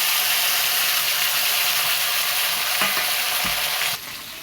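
Cauliflower and potato pieces dropped into hot spiced oil in a pan, a loud, steady, broad sizzle close up, with a couple of brief scraping stirs before the hiss drops noticeably near the end.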